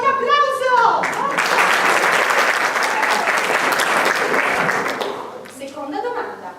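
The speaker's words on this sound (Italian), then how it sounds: "Esatto, un applauso!" Audience applause at a cabaret show staged by an amateur Friulian drama company, a dense burst of clapping lasting about four seconds that swells up right after a voice and then tapers off as talking resumes.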